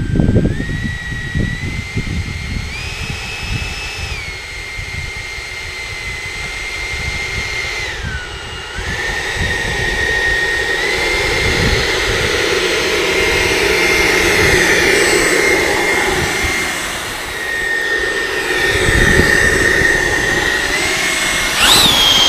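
A Freewing 90mm F-16 electric ducted-fan RC jet on its maiden flight, a loud whining turbine-like roar whose pitch rises and falls as the jet passes, steady and close with no talk.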